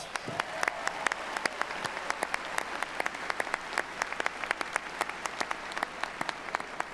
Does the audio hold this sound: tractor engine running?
no